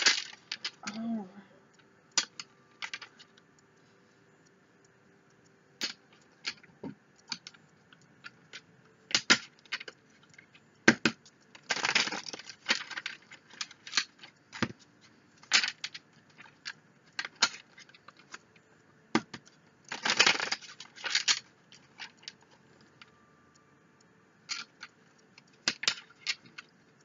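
A deck of tarot cards being shuffled, with soft riffling and sharp clicking bursts scattered irregularly across a long stretch, quiet gaps between them, close and fairly faint.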